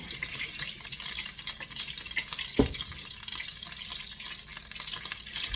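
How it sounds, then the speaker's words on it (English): Butter sizzles and pops steadily in a pan as veal fries, a continuous close crackle with one sharper burst partway through. "Hear all that popping? That's water."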